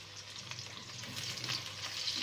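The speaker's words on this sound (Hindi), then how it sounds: "अब इसी घी में हम प्याज को फ्राई कर लेंगे हल्का सा।" Onions fry lightly in ghee with a steady, close, bubbling sizzle that runs without a break through the short moment.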